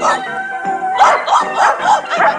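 A cartoon dog gives a string of yipping barks, about five in a steady rhythm, loud and close, over a busy animated soundtrack in a ninja adventure episode.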